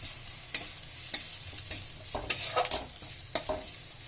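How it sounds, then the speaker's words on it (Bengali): Kachuri filling of fried onion, ginger and chili with gram flour being stirred in a frying pan, with sharp spatula scrapes and taps against the pan at irregular intervals over a soft sizzle. "বেসনটা দিয়ে একটু নাড়াচাড়া করে নিয়ে সব মশলাগুলো এক এক করে দিয়ে দেবো"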